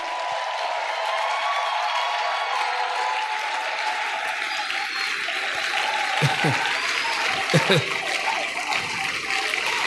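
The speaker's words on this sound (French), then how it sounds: "Gloire à Jésus, acclamons très fort" A church congregation applauds and cheers in praise during a French-language worship service, a steady dense wash of clapping that rises briefly with a few louder bursts near the end.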